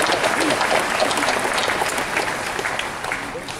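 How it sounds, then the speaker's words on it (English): Steady applause from a crowd, dense clapping that carries on for several seconds before gradually easing off. "That's something worth clapping for."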